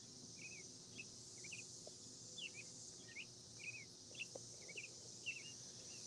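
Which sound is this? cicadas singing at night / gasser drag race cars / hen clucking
cicadas singing at night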